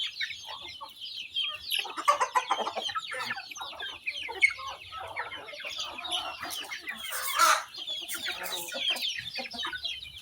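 Several chickens cluck and chatter continuously around a feeding spot, with a brief louder squawk partway through; the flock sounds close and fairly busy, with no talking over it.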